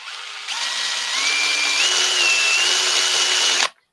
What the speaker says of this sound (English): Get our drill on.